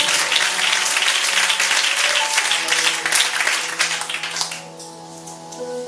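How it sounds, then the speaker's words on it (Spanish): A church congregation applauds steadily, dense clapping with some music tones underneath, tapering off toward the end. "Dale un aplauso al Señor, apláudele con alegría y con gozo en el corazón."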